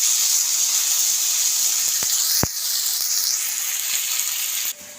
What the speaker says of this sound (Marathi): पहा आपला टमॅटो तो पण परताय